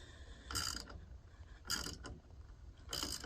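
A boat buckle strap on a Tracker Classic XL boat is ratcheted tight in three separate bursts of sharp, clicking mechanical ratchet sounds, close and fairly faint, with quiet pauses between them.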